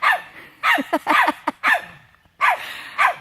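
A dog barks excitedly at a cat in a garden in the Smoky Mountains, a loud close series of sharp yips and barks in quick bursts separated by short pauses.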